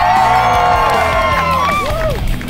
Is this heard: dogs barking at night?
no